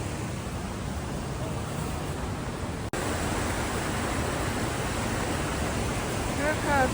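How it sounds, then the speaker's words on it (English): Big, strong waterfall at Morton Waterfalls near Campbell River, BC, pouring over rocks; a loud, steady broadband roar fills the whole stretch with one brief dropout near the middle. "Big waterfall."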